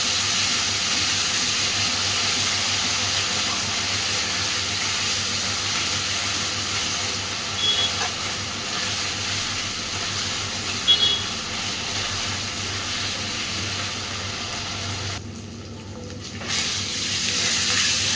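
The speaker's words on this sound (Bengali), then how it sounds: "আলুর সাথে মশলাটাকে এবার একটু কষে নেব।" Potatoes and spices sizzle in a pan for Bengali cabbage with fish heads, a steady loud hiss of frying that holds throughout, with a couple of faint clicks and a brief dip near the end.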